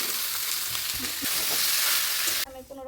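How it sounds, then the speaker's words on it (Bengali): Green jackfruit pieces frying in hot oil in a pan, a loud, dense sizzle with a few stirring knocks, then cutting to a quieter hum near the end, no talking. "এখন আমি এঁচড়গুলো আগে ভেজে নামিয়ে নিব।"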